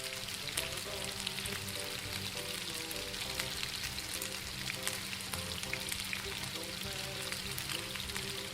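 Youzhagao fried cakes deep-frying in hot oil at a street food stall in Xining, a steady dense sizzle running without a break under faint background chatter and clatter.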